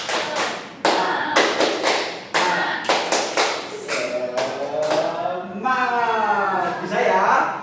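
A fifth-grade class claps out a rhythmic cheer pattern, sharp bursts of hand claps in quick groups, followed by voices chanting together.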